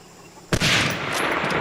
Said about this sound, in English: One of the most impressive parts of the audio is the excellent gun sounds.